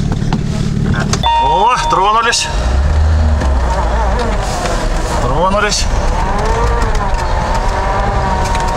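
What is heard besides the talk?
car driving off in deep snow, tire chains test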